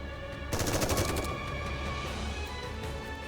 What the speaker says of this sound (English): Mori fires a barrage of bullets at Gluttony's and battered body